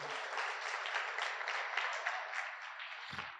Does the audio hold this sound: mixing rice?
no